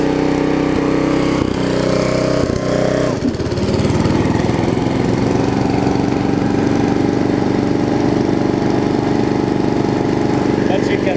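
A Snapper RER riding lawn mower with a broken governor runs close by, starting with uneven pulsing and then settling into a steady, loud drone.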